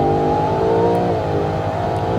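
Ford Mustang Dark Horse engine in the Roblox game GV Rollblox accelerating hard, a loud steady roar with rising harmonic drone that holds strong and close for about two seconds, no talking.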